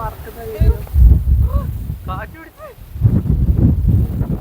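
Strong wind at a high viewpoint among clouds, heavy low buffeting on the microphone in surging gusts, with voices talking over it.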